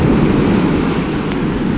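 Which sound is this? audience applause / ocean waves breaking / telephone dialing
ocean waves breaking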